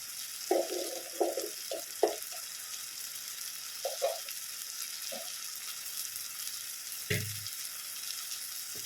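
Masala paste of coriander powder and fenugreek, cooked for an onion curry, fries in a pan with a broad steady sizzle, broken by a few soft scraping stirs and one dull knock near the end; no talking.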